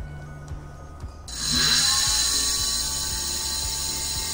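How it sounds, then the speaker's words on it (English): A 48/60V 1000W hub motor e-bike with copper windings, fitted to a converted petrol bike, spins up in reverse, a steady rising whine and mechanical whir that swells after a quiet start and holds loud and close. "Now I am putting in the first speed, reverse. Now I am accelerating."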